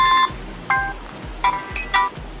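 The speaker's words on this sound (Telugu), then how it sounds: "రింగ్ సౌండ్ కూడా మనకి లౌడ్ గా బాగానే వినబడుతుంది." A Reliance Jio Phone plays its ringtone loudly, a series of bright electronic tone bursts repeating in a quick melodic pattern, heard alone.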